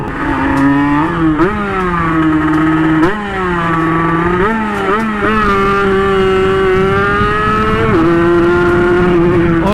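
A motorcycle engine revving hard and close, its loud, buzzing note climbing and dropping in several throttle blips before settling into a high, sustained rev.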